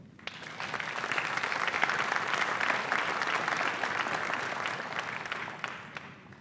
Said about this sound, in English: please give a round of applause for Dominic Brown